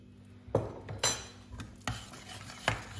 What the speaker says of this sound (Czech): Zamíchám, nechám zavařit.